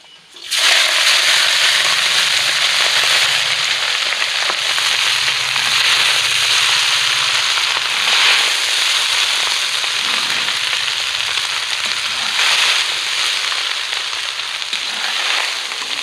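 Rice with raisins frying in a hot pan gives a loud, continuous hissing sizzle that starts abruptly and holds steady and close for about sixteen seconds, with no talk over it.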